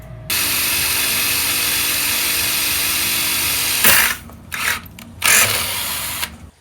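A power drill bores into a 50-year-old AMC Hornet front bumper, whining loudly and steadily for several seconds before cutting out, followed by a few short, sharp bursts of grinding.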